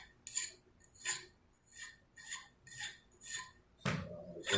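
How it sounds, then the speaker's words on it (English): Deburring the hacksaw-cut edge of a bicycle part, a series of short, rhythmic scraping strokes, about six evenly spaced rasps followed by a longer, louder scrape, close and fairly quiet. "So I'm gonna go around, make sure it's deburred."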